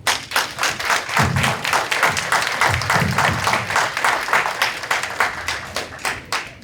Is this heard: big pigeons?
no